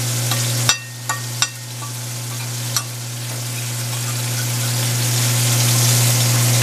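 A spoon stirs Moroccan lamb stew sizzling in a cast iron skillet, with a few sharp scrapes and knocks early on over a steady, loud frying hiss that slowly builds.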